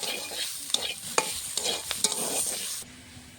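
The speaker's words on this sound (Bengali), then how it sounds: "এখানে আলু সিমটা ভাজা হওয়ার মধ্যে কিছুক্ষণ হলে নামিয়ে দেবো।" Potato and flat bean pieces frying in a pan crackle steadily while a spatula scrapes and taps repeatedly against the metal, close and moderately quiet, easing off near the end.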